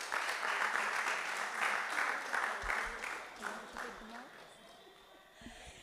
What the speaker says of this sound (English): Give her another hand of applause, please.